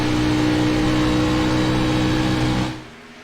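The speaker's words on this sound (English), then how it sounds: "You can just hear how careful he has to be on this throttle," Race car engine on Dover's oval in an eNASCAR sim racing game, a loud steady high-pitched drone with throttle modulation that holds for nearly three seconds, then the engine note drops away sharply.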